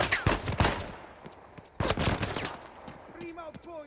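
Gunfire in the video game Uncharted 4: a few sharp shots crack early, a louder burst follows midway, and a voice speaks briefly near the end.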